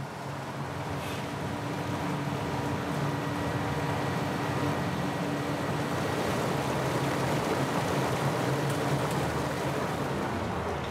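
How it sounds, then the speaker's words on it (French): Water rushes and splashes steadily as olives are rinsed at an olive oil mill. The broad wash of sound stays loud and even throughout, with no voices. "Les olives vont passer au rinçage."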